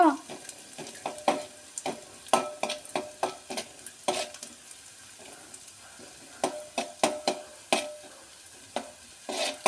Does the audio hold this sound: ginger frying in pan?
yes